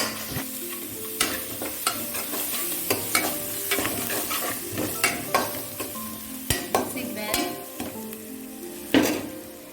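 A spoon stirs salt and turmeric through onions in a pan for a Telangana-style egg and tamarind curry. Steady sizzling runs underneath, with repeated scraping and clinking strokes against the pan and a sharper knock near the end.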